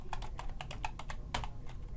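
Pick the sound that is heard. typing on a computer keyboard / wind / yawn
typing on a computer keyboard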